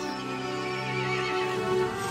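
An angry horse in Resident Evil Village gives a long, loud, harmonic neigh that holds steady throughout, alone and close with no talk.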